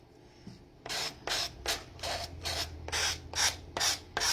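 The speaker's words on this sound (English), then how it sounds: "I'm just going to lightly sand, which is going to pull this off." Light hand-sanding of paint off the edge of a wooden mystery box, a run of about eight close, rhythmic rasping strokes after a brief quiet start, with no talking.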